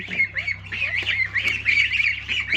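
Many turkey chicks, hungry, peep and squawk in a busy, continuous chorus of high, overlapping calls, close by, with a steady low hum underneath.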